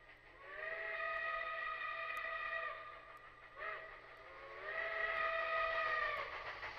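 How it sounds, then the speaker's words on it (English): A steam-style train whistle from the 2D survival shooter Zero Sievert sounds in two long, loud tonal blasts with a brief gap between, reedy and harmonic, with no talk. "Damn, that train sounds like it's got a stick up its butt."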